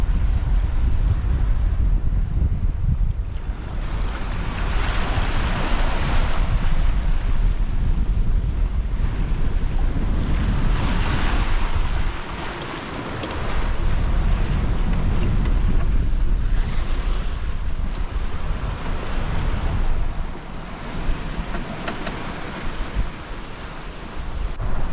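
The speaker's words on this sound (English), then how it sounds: "Chased by waves." Ocean waves and strong wind surround a sailboat off New Zealand's coast, a loud, continuous roar of surf and wind buffeting the microphone, swelling and easing over the passage.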